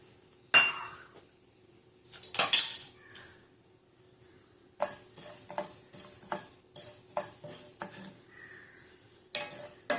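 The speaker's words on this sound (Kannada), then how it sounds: "ಇವಾಗ ನಾನು ಇದಕ್ಕೆ ಧನಿಯಾ ಕಾಳು ಹಾಕುತ್ತೇನೆ." Coriander seeds are dry roasted in a hot pan for garam masala, producing bursts of close metallic scraping and rattling as the seeds are tossed and stirred, broken by short quiet gaps.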